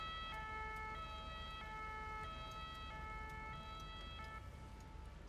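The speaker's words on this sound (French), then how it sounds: "Oula, il y a le SAMU." An ambulance siren in the video game GTA 5, a steady two-tone wail alternating regularly and sounding loud and close throughout, with no talking.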